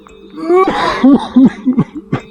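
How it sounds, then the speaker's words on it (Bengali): A short burst of raspy, hacking coughs, several in quick succession, close and fairly loud, with a throaty, strained quality, in a cartoon. "কে ওখানে বসে অসুস্থ মানুষের মতো কাশি দিচ্ছে?"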